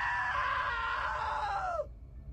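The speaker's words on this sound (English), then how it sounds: "Now that was a great scream." A long, loud scream in What Remains of Edith Finch, a single sustained cry that sags slightly in pitch and cuts off sharply near the end, leaving low background hum.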